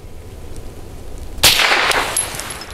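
A single loud, sharp gunshot from a 9mm pistol firing Liberty Ammunition Civil Defense rounds at a shooting range, cracking suddenly after a quiet stretch and trailing into a short echo.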